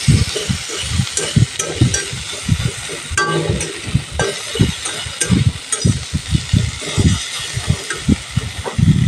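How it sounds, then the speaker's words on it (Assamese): Fish frying in a pan with pieces of elephant apple (outenga), a steady hiss of oil broken by frequent clattering stirs and scrapes throughout. "অকণমান টাইম ভাজি"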